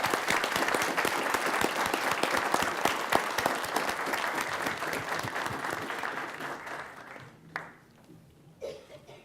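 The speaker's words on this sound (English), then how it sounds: "would you please honour the graduands with your applause." A large audience at MIT's 2012 graduation ceremony gives sustained applause, dense clapping filling the hall for several seconds before thinning out to a few scattered claps.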